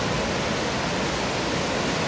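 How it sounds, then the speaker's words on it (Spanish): Spray and mist at El Chiflón waterfall, a dense, even hiss of falling water filling the whole moment with no break or voices. "Pareciera como si estuviera lloviendo, pero creo que es la brisa de la cascada."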